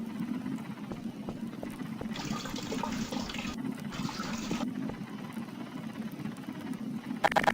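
Liquid pours steadily into containers during alcohol distilling in Garry's Mod, a continuous watery rush in two bursts over a low background hum, moderately loud and close.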